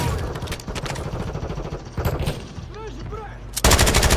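Sniper and rifle gunfire in Call of Duty Warzone 3: several sharp, loud shots crack in quick succession amid game sounds, with one last heavy blast at the end.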